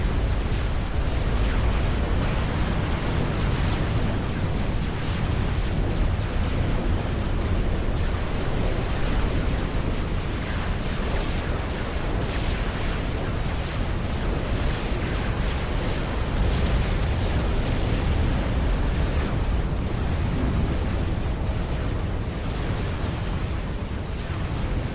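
Laser strikes from the sky in a 4v4 Forged Alliance Forever battle explode continuously, a dense, loud, unbroken roar of blasts and rumbling bursts with no pauses throughout.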